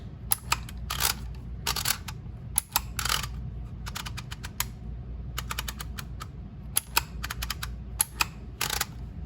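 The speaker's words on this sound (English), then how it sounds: "I love this clicking sound." Sharp mechanical clicks from a label or word-sticker maker pressing out letters for a Bible journaling page, arriving in quick bursts and single snaps over a low steady hum, close and fairly loud.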